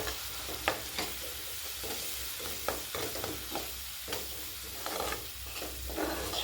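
Tomato with turmeric, chili powder, cumin, coriander, garam masala and Kashmiri chili powder fries in a pan for a sesame soybean curry, a steady close sizzle with repeated scraping strokes of stirring and a few soft knocks.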